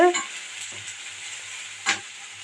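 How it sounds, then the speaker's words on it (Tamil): Chopped onion sautés in a hot pan for a capsicum and egg dish. A steady, close sizzling hiss carries through, with a few soft stirring scrapes and no talking. "இந்த வெங்காயத்தை ஒரு நிமிஷம் நல்லா வதக்கி விட்டுக்கலாம்"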